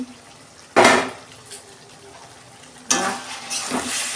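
A metal lid lifted off a pot of vegetable curry, with a sharp clank and then another knock of metal over a low simmering hiss and faint frying crackle.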